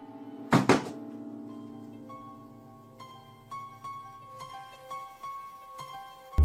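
A heavy door slams once, loud and close, in a basement, followed by scattered faint clicks and creaks in an otherwise quiet room.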